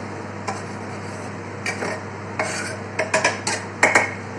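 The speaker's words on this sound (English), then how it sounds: "so give those a little stir, and those can now be starting to soften up" Onions being stirred as they soften in a pan for cottage pie, a run of soft scraping strokes that come closer together toward the end, close by over a faint low steady background.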